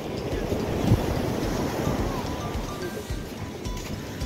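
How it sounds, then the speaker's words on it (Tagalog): Sea waves wash onto a sandy beach in a steady roaring surf, with wind buffeting the microphone and faint voices of people under the noise. "Abot ang alon."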